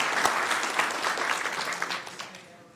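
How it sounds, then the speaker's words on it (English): Applause from the audience at a city council meeting in Sacramento, a dense spread of clapping that starts strong and slowly fades toward the end, with no talking over it. "Let's give her a big round of applause"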